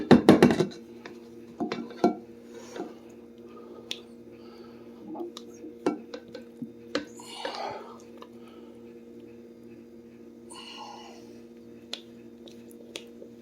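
Zucchini Bisquick pie batter is scraped and plopped from a bowl into a pie pan, giving wet squishes and sharp clicks of a utensil against the dish, with a voice speaking softly between them.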